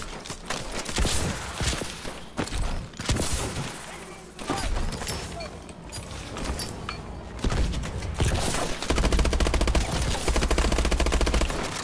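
Gunfire in the video game Call of Duty: Advanced Warfare, with dense rapid machine-gun bursts and single shots coming loud and close throughout, heaviest toward the end, amid game effects and brief voices.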